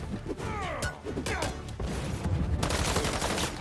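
Gunfire from armed paparazzi in Marvel's Spider-Man 2, rapid cracking volleys and crashing impacts packed densely over game effects and music, loud and close throughout.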